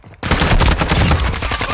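Dense, loud automatic gunfire from a first-person shooter video game, a sustained clatter of rapid shots that begins abruptly and continues without letup, with faint game chatter mixed in.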